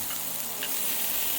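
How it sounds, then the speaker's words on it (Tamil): Chopped onion frying in oil in a pan, a steady soft sizzle that holds evenly throughout with no talk over it. "இப்போ ஒரு பேனில் எண்ணெய் சேர்த்து பொடியாக நறுக்கி வச்ச ஒரு வெங்காயம் சேர்த்துக்கோங்க"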